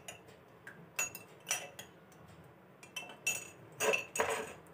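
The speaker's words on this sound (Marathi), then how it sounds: "यामध्ये 2 ते 3 चम्मच मी टाकते आणि हे छान मिक्स करून घ्यायचं आहे" A spoon clinks against a bowl while stirring Rooh Afza syrup for an ice gola, a string of light, bright taps and scrapes in an irregular rhythm, fairly close and fairly quiet.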